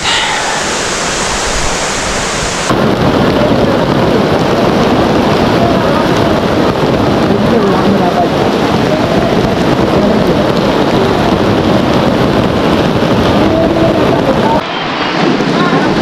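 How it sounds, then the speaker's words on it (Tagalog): Heavy rain pours steadily at a riverside campsite in Cavinti, Laguna, a dense loud roar of drops on surfaces, with a quieter stretch at the start and a brief dip near the end. "Camping in heavy rain tayo. Heavy rain."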